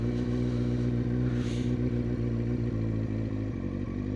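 A motorcycle crawls at walking pace during a CBT slow-control exercise, clutch just past the bite point with the rear brake dragging. The engine hums low and steady at close range throughout, with no talking.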